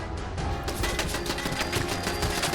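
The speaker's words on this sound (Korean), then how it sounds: "방금 쓰고 있는 거 짧은 파이프 소총인데" A short pipe rifle fires in Fallout 4, a quick run of sharp, close shots mixed with mechanical clatter and game sounds, fairly loud with no voices.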